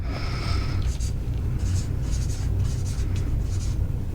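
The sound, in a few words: writing on a piece of paper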